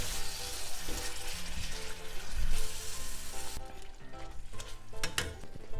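Alfredo sauce and shrimp are stirred in a pot, a thick wet bubbling and sizzling texture with sloshing swirls. Some spoon scrapes and clinks come through near the end.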